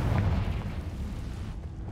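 A Confringo spell blast in Hogwarts Legacy erupts as a loud, deep boom at the start, then rumbles and fades over about two seconds with no other sounds on top.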